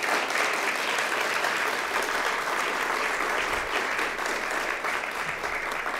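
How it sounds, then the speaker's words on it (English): Sustained applause from the audience at a city council candidate forum in Allen, a thick, continuous patter of many hands that stays loud and steady for several seconds, easing slightly near the end. "Let's give these candidates a round of applause."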